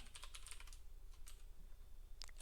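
Someone types on a computer keyboard while entering email settings: quick, soft, irregular key clicks, close and quiet, with no voices.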